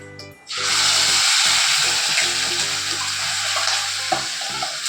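A ground paste of onion, tomato and fennel seeds hits hot oil for a village country-chicken gravy, bursting into a loud, steady sizzle after a short quiet moment and frying continuously with faint stirring clinks.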